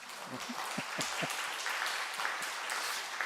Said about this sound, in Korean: 여러분 박수 좀 쳐주세요